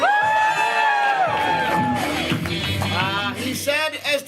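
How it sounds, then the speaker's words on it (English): A comedy club audience erupts into loud cheering, whoops and shouts, a sustained roar of many voices that swells and then breaks into scattered yells. "He said as the crowd went absolutely insane."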